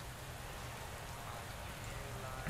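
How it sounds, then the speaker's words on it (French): Rain falling during the Milan San Remo race in a cycling video game, a steady quiet hiss of drops with no other sound rising above it. "Il pleut, la descente est mouillée."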